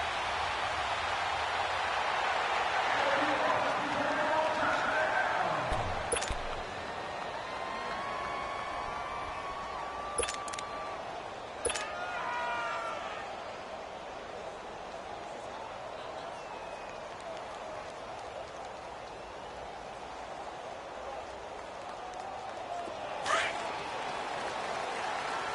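An NFL stadium crowd at a Kansas City Chiefs versus Detroit Lions game, a broad, steady roar of distant cheering and applause with occasional whistles.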